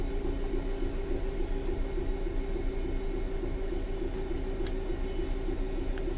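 A Class 66 diesel freight locomotive running in the Train Sim World 3 simulator, a steady low engine drone with a constant rumble from the wheels, heard continuously and close, with a few faint clicks near the end.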